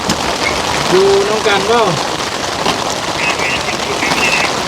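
Rain falling steadily as a dense, even patter on surfaces nearby, continuous beneath a person speaking briefly and a few faint high chirps or squeaks.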